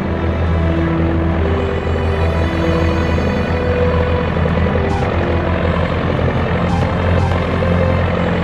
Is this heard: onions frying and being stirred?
no